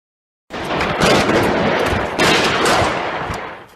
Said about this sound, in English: Paris, mid-morning, gunfire.